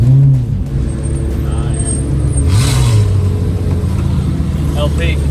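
A Bugatti Chiron drives past on a street, a loud low engine rumble with a brief revving swell, close by and continuous, while a person briefly speaks over it.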